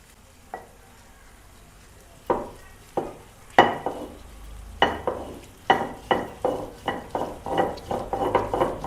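Finely chopped onions sauté in hot oil under a soft sizzle, while a spatula scrapes and clinks against the pan in repeated strokes that come faster toward the end.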